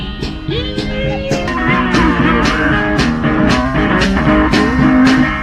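A busker plays blues guitar while working a child's drum kit with his foot in the stone circle at Glastonbury, with steady kick and cymbal hits under twangy melodic lines, loud and close throughout.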